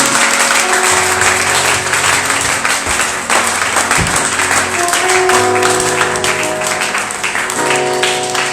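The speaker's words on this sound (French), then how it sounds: "Acclame fortement Jésus" A church congregation applauding loudly and continuously in a large worship hall, dense sustained clapping mixed with crowd cheers and voices throughout.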